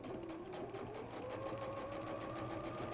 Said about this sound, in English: now you're sewing down the other side